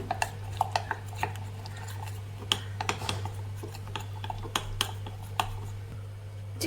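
A spoon clinks and scrapes against a bowl while mixing chicken 65 marinade, in quick, irregular taps, with a steady low hum in the background and no talking.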